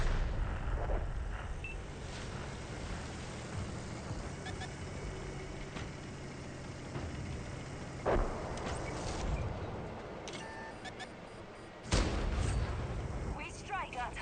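Tank guns fire twice in World of Tanks with heavy booming shots several seconds apart, rising over constant engine rumble and game noise. Voices are present in the background.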